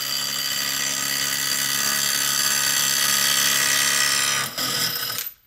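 A DeWalt 12V 3/8-inch impact wrench hammers steadily against a stubborn fastener, a loud continuous rattling buzz for over four seconds with a brief dip near the end before it cuts off.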